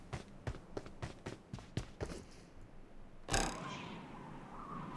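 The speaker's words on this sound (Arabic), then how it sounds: "صوت واحد عم يشرب كولا" A character drinks cola in the mobile game PUBG Mobile: a rapid run of sharp gulping clicks, followed by a sudden louder breathy burst that fades into a soft hiss.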